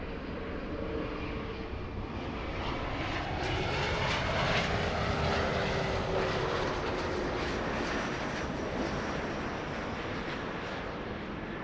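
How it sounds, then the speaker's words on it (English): An Air Canada Express CRJ 900 jet operated by Jazz Aviation arrives at LAX from Vancouver, its engines giving a steady, loud roar with a faint rising whine that swells slightly mid-pass and eases off. "The next arrival is a CRJ 900 Air Canada Express operated by Jazz Aviation flying in from Vancouver"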